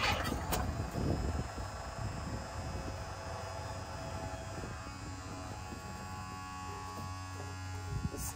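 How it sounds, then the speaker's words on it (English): A stuck car starter motor, engaged by touching a screwdriver to the solenoid wire, gives off a steady electric buzz and hum that runs on without a break and stays close and fairly loud. "The starter just stuck."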